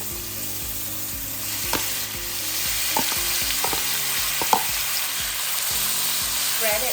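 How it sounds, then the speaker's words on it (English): Beef stir-fried in hot oil sizzles steadily and close, the hiss broken by scattered clinks and scrapes of a utensil against the pan, with nobody speaking. "Right now that the oil is hot, I'm gonna add in our beef."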